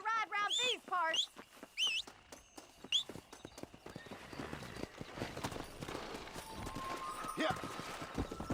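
Horse hooves clip-clop at a gallop in the Red Dead Redemption western game, a steady rapid beat that builds in the second half after a few brief neighs and whinnies, with game ambience underneath.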